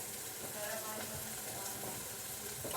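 Chips fry in a pan in a home kitchen, giving a steady soft sizzle and crackle throughout, ending in a sudden louder clatter.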